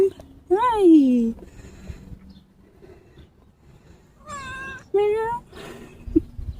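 An orange cat meowing near the listener, one drawn-out meow, then two shorter ones a few seconds later, with a faint soft chirp at the end against a quiet background.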